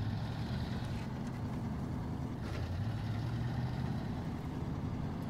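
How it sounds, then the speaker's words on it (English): A big, throaty American truck engine in the video game SnowRunner runs steadily on a snowy route, a continuous low rumble holding a constant drone throughout with no talk over it. "I love the sound of this engine."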